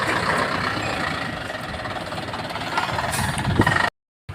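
A vehicle arriving in a company parking lot in hot weather, its engine running with a steady low rumble and a few brief higher squeaks near the end before a sudden cut.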